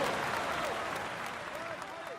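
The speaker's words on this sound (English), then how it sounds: "let's applaud him once more" Crowd applause in a cycling video game, continuous dense clapping that holds steady and tapers slightly, with a faint voice underneath.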